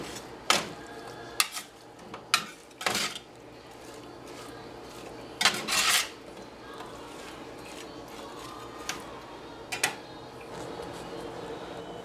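A grill pan is set onto a gas grill: a series of sharp metallic clanks and scrapes, a few close together early, then a louder cluster in the middle, over a quiet background hiss.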